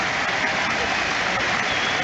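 Stadium crowd applauding a substituted player leaving the pitch at a Liverpool–Cardiff football match, a steady, dense wash of clapping and crowd noise that fills the whole stretch without letting up.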